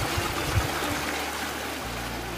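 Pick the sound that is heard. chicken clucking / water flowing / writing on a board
water flowing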